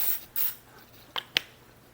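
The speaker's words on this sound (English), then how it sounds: "Spray a little bit of cooking spray, slip and slide juice, I call it" Cooking spray gives a short hiss onto aluminum foil, then two quick sharp spritzes follow close by, with no talking.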